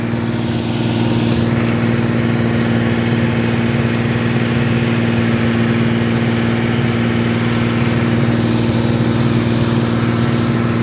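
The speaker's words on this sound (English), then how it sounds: "someone bumped the idle up to solve it." Engine running at raised high idle, a loud steady droning hum with constant tone throughout and no voices.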